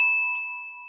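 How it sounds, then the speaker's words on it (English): A 17th-century Tibetan Buddhist energy bell is struck once, giving a clear, close metallic ring with steady sustained tones that slowly fade across the whole short moment, with no talking. "like 17th century Tibetan Buddhism energy bell"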